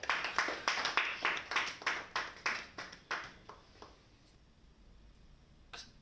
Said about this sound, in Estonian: Aitäh, Taavet! Aplaus Taavetile!